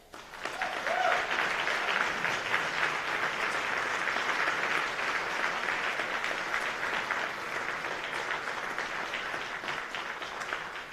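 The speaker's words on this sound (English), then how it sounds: "Join me in a round of applause." A large banquet audience at a national military association gala breaks into sustained applause, dense steady clapping that swells quickly and holds for about ten seconds with no speech over it.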